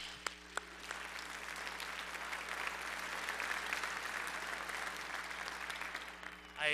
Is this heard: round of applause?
yes